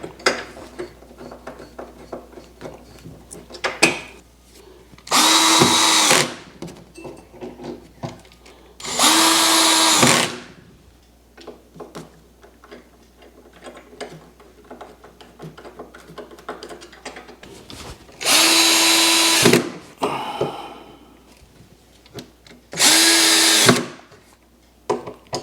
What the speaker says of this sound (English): we put a screw in, and I tend to use the Phillips head again to just get it going